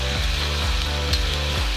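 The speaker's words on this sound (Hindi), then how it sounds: "यह लहसुन का पोट डाल रहे हैं हम लोग" Garlic sizzles in a hot pan with steady, continuous frying crackle, close and fairly loud. A soft rhythmic scraping or stirring recurs underneath.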